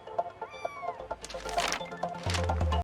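A cat meows inside a grocery store, its short cries standing out over a busy background of shop noise and low rumble.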